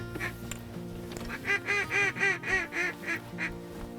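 Wild geese honk near a hunting blind in a run of about eight loud, rhythmic calls over a steady low background hum, with no talking.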